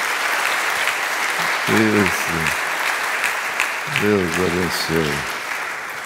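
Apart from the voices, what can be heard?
congregation clapping hands in praise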